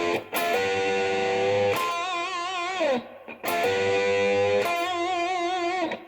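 Electric guitar playing a minor pentatonic blues rock lick, a loud clean-toned phrase played twice with a note bent up and shaken with wide vibrato before each phrase fades.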